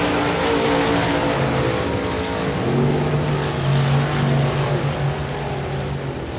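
Modified race cars roaring together down the back straight of a speedway, a loud continuous engine drone with overlapping pitches from several cars racing close together.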